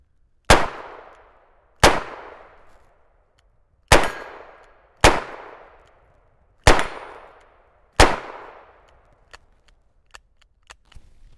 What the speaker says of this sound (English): This is a Smith Wesson Model 57 in 41 Magnum.